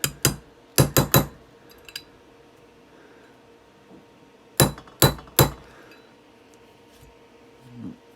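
A punch driving a pin out of a Sig P226 Legion slide gives sharp metallic clinks and taps: one group of three or four quick strikes, then a pause and another group of three, with faint handling noise between them.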